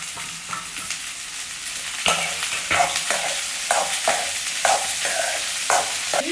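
Vegetables frying in hot oil in a pan for a Tamil fasting-day feast, a steady close sizzle broken by regular scraping stirs of a spoon every half second or so.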